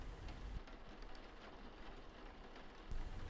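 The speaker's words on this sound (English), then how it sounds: "Look, I didn't realize it was supposed to storm like this." Heavy rain storm pours down in a dense, steady hiss of drops drumming on surfaces, close and unbroken, with low rumbles swelling near the start and again near the end.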